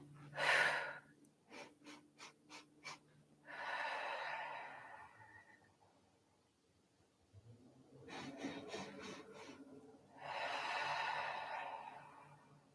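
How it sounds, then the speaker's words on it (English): Slow, deliberate breaths drawn in through the nose and released out through the mouth during an energy exercise, heard close up as long airy rushes and pauses with no talking. "Still breathing in through the nose and out through the mouth."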